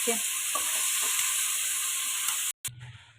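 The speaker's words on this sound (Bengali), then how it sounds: "অল্প করে একটু মশলাটা কষিয়ে নিল আর তাতে মটরগুলো এখন দিয়ে দিই" Green peas dropped into spiced masala of garlic and chilli paste frying in a pan for ghugni, giving a steady close sizzle with stirring scrapes that cuts off abruptly near the end before a faint low rumble.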